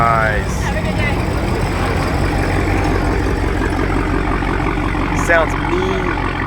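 A Destroyer gray Dodge Charger Hellcat idles close by at an outdoor car meet, a steady deep engine rumble running throughout, with people chatting over it.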